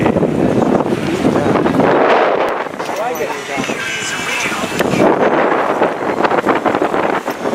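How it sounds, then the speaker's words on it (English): Strong wind roars across a sailboat on San Francisco Bay, a loud, steady buffeting gust with some water noise beneath it, continuous for the whole stretch. "That's the power of the wind."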